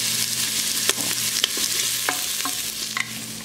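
Onion frying until golden in a pot, a continuous loud sizzle near at hand with several sharp spoon clicks against the metal as it is stirred.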